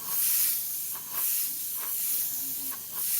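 An airbrush sprays paint in a soft, continuous airy hiss, sweeping in several short passes with brief dips between them, close and fairly quiet.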